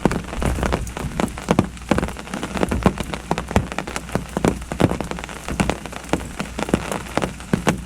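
Steady rain patters on a surface beside a river during a mild, overcast fishing session, with dense close droplet hits throughout and no voices.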